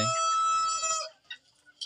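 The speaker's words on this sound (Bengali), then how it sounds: "এই দেখেন মোরগটা মাশাল্লাহ মাশাল্লাহ মোরগটা দেখেন" A rooster lets out a loud, close crow that stretches about a second, followed by a few softer clucks from chickens nearby.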